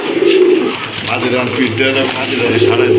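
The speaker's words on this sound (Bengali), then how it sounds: "এটা হচ্ছে আপনার ব্লুবার ম্যাকপাই ড্যানিশ" A blue bar Magpie Danish pigeon coos in low, rolling phrases, repeated several times up close, with a busy murmur of other sounds around it.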